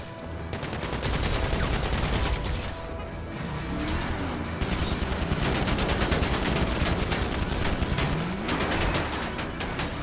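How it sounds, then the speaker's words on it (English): Minigun gunfire in GTA Online: dense, continuous rapid-fire rattle layered over game sound effects and noise, sustained across the whole stretch at a steady loudness. "He's got a minigun."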